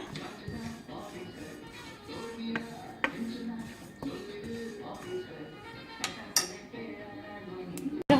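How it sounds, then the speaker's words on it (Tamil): Dry spices for rasam powder being stirred in a pan over low heat, with repeated scraping and clinking of a utensil against metal, quiet and close, with faint sounds from the background. "கொஞ்சம் வெது சூட்லேயே வச்சு கிண்டிடுங்க"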